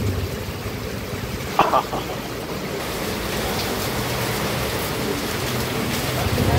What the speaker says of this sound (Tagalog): Ay, naku, ulan guys. Grabe.